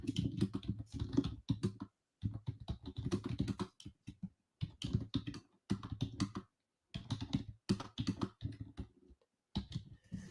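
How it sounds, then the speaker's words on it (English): Fingers type on a computer keyboard close by, tapping in quick clustered bursts of keystrokes separated by short pauses, fairly quiet with no talk. "So I'm typing it right now."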